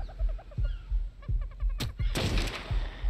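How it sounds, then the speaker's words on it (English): Shots from a powerful gun in the video game ARK Survival Ascended: a rapid run of sharp, loud reports in steady rhythm, with a brief pause and then a louder, broader blast burst partway through. "That one was a really powerful gun."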